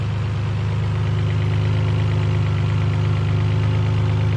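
RB26 engine swapped into a Nissan 300ZX with a custom fuel system, idling with a steady, loud, low rumble and an even pulse, close up and uninterrupted.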